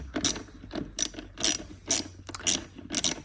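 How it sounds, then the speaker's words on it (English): A ratchet tightens the air filter on a BMW R NineT Racer motorcycle, giving six close, loud bursts of rapid clicking separated by short pauses. "what you're going to kind of need really is a ratchet like this"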